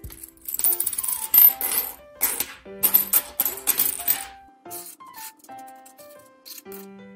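Small coins clink and jingle in quick clusters inside a small compact wallet, metal rattling against metal close up, then lighter scattered taps as they settle.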